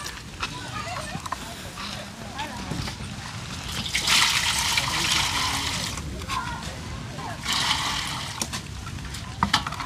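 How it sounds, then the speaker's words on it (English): Water sloshes and splashes into a cooking pot at a seaside outdoor cook-up, with bursts of pouring and trickling alongside background voices. "Throw some water in this pot."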